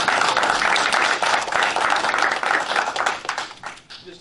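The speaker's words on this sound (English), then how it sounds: "If we can give them one more round of applause." Brief burst of audience applause for students at a Lockport Township meeting, with dense clapping from a crowd that swells and then tapers off near the end.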